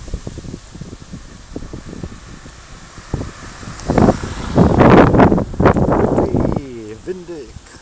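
Stormy wind gusting outdoors along the Rhine riverbank, a steady rushing roar buffeting the microphone and swelling to louder gusts midway, with people talking over it.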